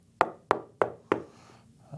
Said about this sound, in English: I'm going to knock on that far wall over there